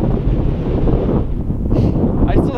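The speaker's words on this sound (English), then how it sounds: "It's kind of windy." Strong wind buffets the microphone outdoors in the desert, a steady low roar with gusty surges throughout, loud and close, with no clear talk over it.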